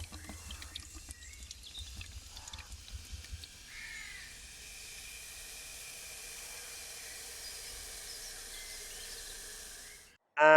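A whole 2-litre bottle of ginger beer is poured over pork and ribs at a bush campfire, making a long steady fizzing hiss after crow caws and rustling, then cutting off abruptly.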